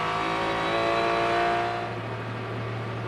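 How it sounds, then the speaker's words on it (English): Porsche race cars at the Sebring 12 Hours endurance race roar past as a loud, sustained engine drone with steady high whine. The sound eases slightly toward the end, with no voices heard. "the Grello Porsche starts to chase down that number 77 AO Racing Roxy Porsche"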